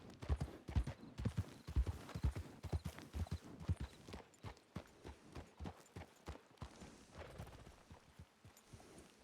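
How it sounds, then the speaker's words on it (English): Video game horse hooves clip-clopping at a steady pace, loud at first then fading slightly as the horse moves along, with no voices. "Is that Lark's horse?"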